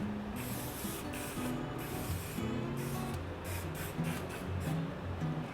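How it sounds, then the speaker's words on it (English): Repeated short hisses of hairspray from an aerosol can, about a dozen bursts in an uneven rhythm, close up, with no talking. "I'm just going to give this a bit of a spray"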